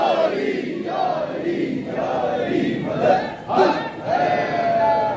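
A large crowd at a majlis at Darbar Shah Chan Chiragh in Rawalpindi chants a religious slogan for Husain in loud, rhythmic unison. Repeated swelling phrases fill the space with dense, reverberant voices.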